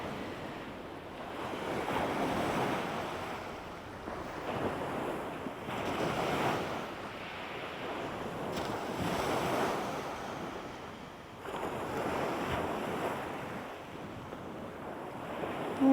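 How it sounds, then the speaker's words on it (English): Ocean surf rolls in and recedes in slow, repeating swells about every three to four seconds, a steady wash of water and wind with no voices. "maybe it's the sounds of the sea"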